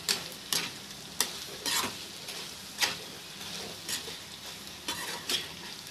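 Fried egg pieces being stirred into gongura pachadi in a pan: a soft continuous sizzle with repeated rhythmic scraping strokes of a spoon, about ten scrapes, close and fairly quiet.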